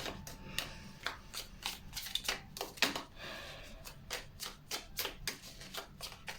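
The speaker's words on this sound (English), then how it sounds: "I'm going to live shuffle from the Mystical Dream Tarot" Mystical Dream Tarot cards are shuffled by hand up close in a quick run of crisp riffling snaps and taps. Each bright flick is separate, repeating fairly steadily and quietly with no talk.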